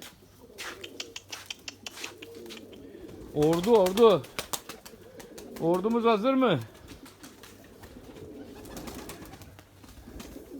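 Two bursts of white Erzurum pigeon cooing, one after another, up close, with someone talking and light fluttering and clicks around them.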